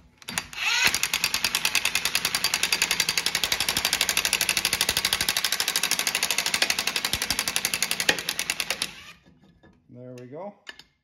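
A bolt is ratcheted into a threaded hole in the front brake rotor of a 2010-2015 Lexus RX350, giving about eight seconds of loud, fast, steady metallic clicks. A short burst of talk follows once the rotor breaks free.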